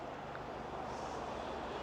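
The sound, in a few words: distant road traffic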